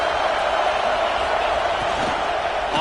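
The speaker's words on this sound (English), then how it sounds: "Listen to this crowd just shaking the girders of this place" A big stadium crowd roaring at a football game, a dense, constant wall of cheering and noise with no breaks.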